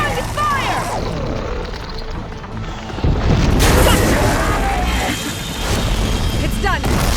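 A fire bomb bursts into flame in Horizon Forbidden West, a loud boom with crackling burn and clattering debris swelling around the midpoint, set against continuous game ambience and effects.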